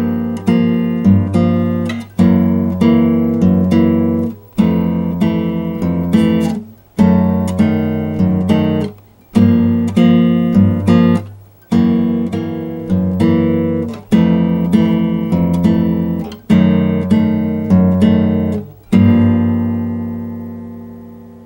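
Bossa nova rhythm strummed on a guitar, a repeating syncopated pattern of plucked bass notes and chords in steady bars, clear and close with no voice, ending on a ringing chord.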